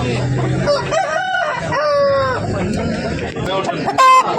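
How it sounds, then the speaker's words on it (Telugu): Native country rooster crowing at a busy poultry market, loud and near, with clucking hens and people talking around it. "ఒరిజినల్ నాటుకోళ్ళు"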